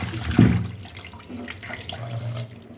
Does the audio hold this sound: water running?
yes